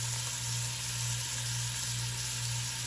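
Steak meat sizzles steadily in a hot pan for Lebanese green beans with steak, a continuous close hiss with a low hum beneath and no talk.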